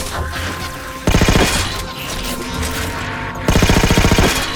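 Halo 4 gunfire during a campaign mission: two loud bursts of rapid automatic fire with a stretch of game action and rumble between them, close and dominant throughout.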